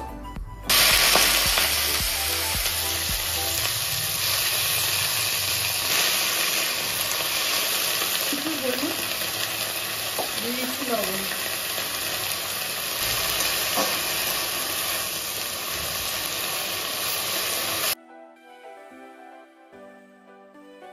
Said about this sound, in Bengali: কড়াইতে তেল দিয়ে দিয়েছি। আমি প্রথমে পাতাগুলোকে ভেজে নেব।